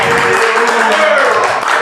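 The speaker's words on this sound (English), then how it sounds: "I start clapping right now" Hands clapping at a steady pace under a voice talking, the claps loud and close in a studio setting.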